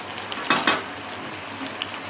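Ginger and spices sauté in a pan over low heat for pudina chicken, a soft steady frying hiss with a couple of brief clinks of a spoon against the pan near the start.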